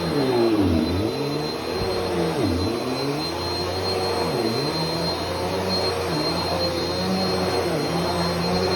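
A Bissell Power Force Compact upright vacuum cleaner runs continuously in an apartment, a loud close steady whine with a roar that dips and rises as it is pushed back and forth.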